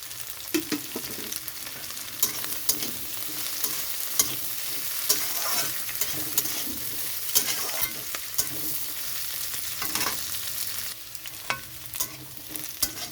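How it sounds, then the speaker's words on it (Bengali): Spices with ginger and cashews sizzle and crackle steadily in a hot pan, with scattered sharp pops and occasional scraping of a spoon stirring, no voices. "এখানে আমার মশলাটা ভাজা হয়ে গেছে, দেখুন এরকমভাবেই ভেজে নিতে হবে"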